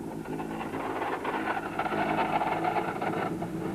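A VW Golf rally car with a broken gearbox, left with only fifth and sixth gears, labours on a steep pass; a steady, strained engine drone runs throughout with a dense mechanical clatter on top.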